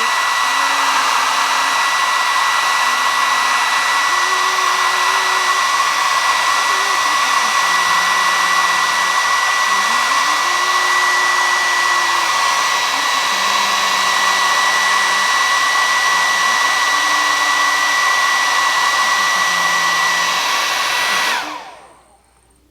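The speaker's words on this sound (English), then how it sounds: "I get my blow dryer and I blow dry it" A hair dryer runs continuously at close range for a DIY at-home lash lift on the eyelashes, a loud steady whoosh with a shifting motor whine before it switches off abruptly near the end.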